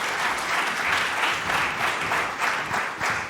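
Sustained audience applause at a corporate stock exchange listing event in Rwanda, steady dense clapping throughout with no voices over it.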